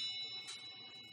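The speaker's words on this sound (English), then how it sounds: "the clock in his bar is haunted and chimes whenever it is happy" A clock in a bar gives a single brief bright chime, ringing for a moment over a low murmur of background room noise.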